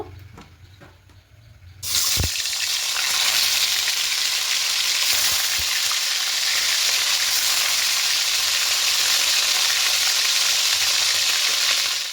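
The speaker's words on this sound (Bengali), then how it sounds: "গরম হয়ে গেছে, মাছগুলো একে একে ছেড়ে দেব।" Catla fish pieces dropped into hot mustard oil in a kadai: after a quiet start with a few small knocks, a loud hissing sizzle bursts in and holds steady and strong to the end, with no talking.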